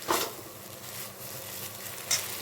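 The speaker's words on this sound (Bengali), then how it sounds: "এখন আমি মশলাটাকে কষিয়ে নেব।" Spice paste (masala) for a vegetarian kabuli chana ghugni sautés in a pan with a close, steady hiss and sizzle, with soft stirring scrapes at the start and near the end.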